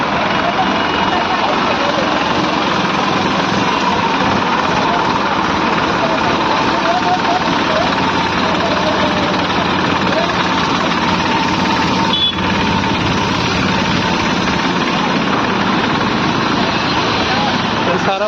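Water pumps and a jetting machine drain a flooded street after the first rain: a loud, continuous mechanical drone and rattle with a constant level throughout, and voices faintly present beneath it.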